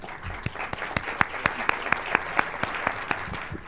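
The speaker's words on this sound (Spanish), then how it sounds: "Recibamos al profesor Robert Klitgaard con un fuerte aplauso" Audience applause for Professor Robert Klitgaard at an international seminar on corruption, a steady wash of many hands clapping with sharp individual claps throughout, sustained for several seconds.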